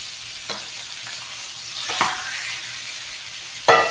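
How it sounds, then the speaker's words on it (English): Pork chops sizzle steadily in a frying pan, a dense close crackle with a few sharper flares of spattering as the meat is moved, no voices. "Can you guys hear me over the sizzle?"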